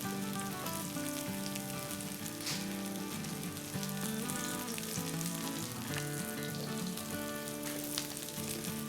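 Mutton chops frying in a pan produce a steady close sizzle and spatter that runs throughout, with some background tones underneath.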